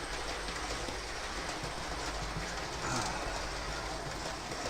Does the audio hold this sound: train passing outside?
yes